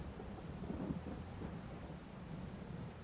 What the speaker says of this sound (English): Dumping buckets of rain.